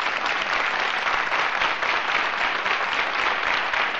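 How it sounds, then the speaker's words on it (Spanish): Sustained studio audience applause on a 1990 Spanish regional television show, an even wash of many hands clapping without pause, fairly loud and with no voices on top. "Aplausos para ellos, les animamos."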